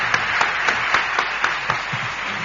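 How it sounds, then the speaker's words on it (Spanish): An audience applauds steadily, with many hands clapping together in a warm, even wash of sound. "Un aplauso para los dos, por favor"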